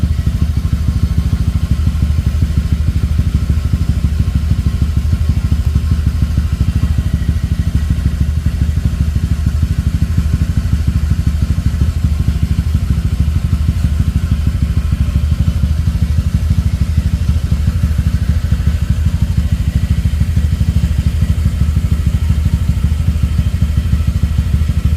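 A motorcycle engine fitted with a 220cc fuel injector and a remapped tune idles steadily, a constant close, low mechanical rumble with faint clatter and no talk, sustained without change throughout.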